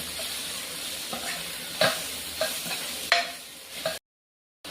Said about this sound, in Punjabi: ਤੇ ਹੁਣ ਇਹਦੇ ਵਿੱਚ ਕਰਾਂਗੇ ਜੀ ਮੈਗੀ ਮਸਾਲਾ ਐਡ ਇਹਨੂੰ ਚੰਗੀ ਤਰ੍ਹਾਂ ਭੁੰਨਾਂਗੇ